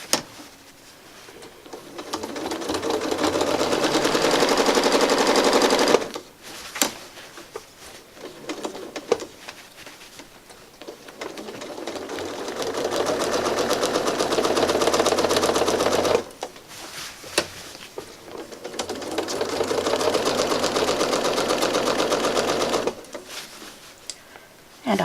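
A sewing machine stitches a quilt in long steady runs of rapid whirring needle strokes, pausing twice between bursts, close and fairly loud.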